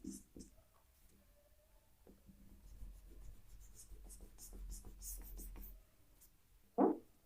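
Marker scratching across a whiteboard in short strokes, quiet and close, with a man lecturing in Hindi intermittently over it and a louder tap or squeak near the end.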